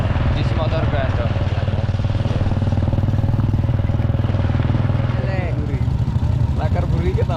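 A grandong motorbike's engine rumbles steadily and loudly up close, a constant low throb with some clatter, while voices talk over it.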